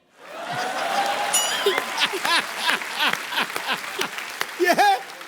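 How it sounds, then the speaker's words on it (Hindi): Studio audience applause on The Kapil Sharma Show, a dense burst of clapping rising quickly and sustained throughout, with a speaking voice and scattered cheers and chuckles over it. "ठोको ताली"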